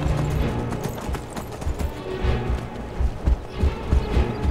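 A horse gallops in Skyrim, its hooves drumming in a steady fast rhythm, loud and close, over a dense game soundscape.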